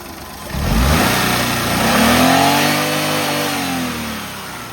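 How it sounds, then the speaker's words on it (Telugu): A 2013 Hyundai Eon D-Lite Plus petrol engine revs up sharply, holds a rising whine, then eases back down toward idle, close and loud. "ఒకసారి మీరు కూడా ఇంజన్ అనేది ఇంజన్ కండిషన్ ఎలా ఉందో ఒకసారి చెక్ చేసుకోవచ్చండి"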